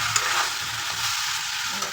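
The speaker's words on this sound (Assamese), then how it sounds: "এতিয়া ইয়াত দি দিম বিলাহী আৰু জলকীয়াখিনি পকিয়ে গৈছে।" Tomatoes and green chilies fry in a pan for a gravy, giving a steady close sizzle with soft stirring scrapes throughout and no talking.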